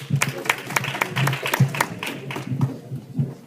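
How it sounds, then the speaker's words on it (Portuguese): A church congregation claps in a strong, rhythmic beat at a Sunday-style worship service, the sharp hand claps close and loud with crowd noise and faint voices mixed in. "uma salva de palmas para Jesus."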